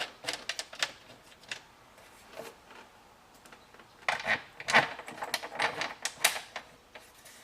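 Fasteners tightened by hand while installing Focal component speakers in a Ferrari 430/360 interior: faint, irregular clicks and ratcheting ticks in short uneven clusters, close up and quiet, with a busier run of clicks near the end.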